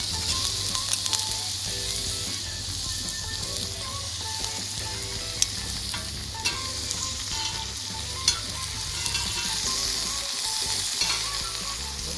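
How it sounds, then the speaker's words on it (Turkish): Steady, loud sizzling of food frying in a pan, with occasional crackles and pops and light stirring clatter throughout. "Şimdi iyice pişene kadar iki tarafında da güzelce kızartacağız."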